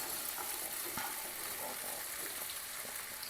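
Soaked sago is stirred into a potato and green chilli tempering in a pan for sabudana khichdi, giving a steady soft frying hiss with light scraping, fairly quiet and without talk.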